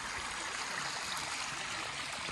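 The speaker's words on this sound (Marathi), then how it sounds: "इथे मस्त एक छोटासा धबधबा आहे" A small waterfall at a hill station in Kodaikanal, Tamil Nadu, produces a steady, even rush of falling water throughout, close by and alone, with no talking.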